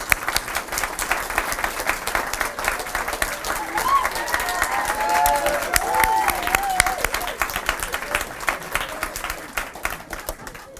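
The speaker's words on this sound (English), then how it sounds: "So I'd like to give her a round of applause at this stage." An audience at the Kerry Social Farming report launch gives a sustained round of applause, dense and even throughout, with some voices rising briefly in the middle.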